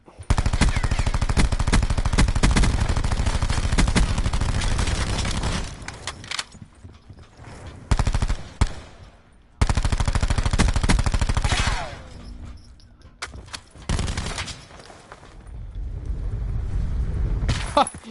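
Rapid automatic fire from an MX9 submachine gun in a video game, long sustained bursts broken by short gaps, loud and close with game effects.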